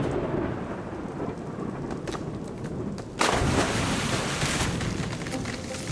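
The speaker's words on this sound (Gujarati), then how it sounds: "તેની પ્રાર્થના સાંભળીને આકાશમાં વીજળીઓ કડકવા લાગી." Thunder rumbles through a rainstorm in an animated story, steady heavy rain throughout and a loud sudden crack partway through, no voices.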